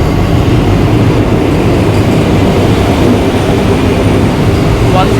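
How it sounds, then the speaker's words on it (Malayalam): A Vande Bharat train arrives at a platform with a loud, continuous rumble and rattling wheel noise close by, dense and steady across the whole stretch. "നമ്മുടെ ട്രെയിൻ ആകയാ."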